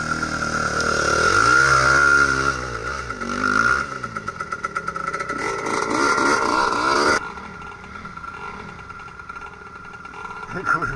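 An enduro motorcycle engine labours and revs hard on a steep climb, loud and close, rising and falling in uneven surges with clattering under it, while people talk over it.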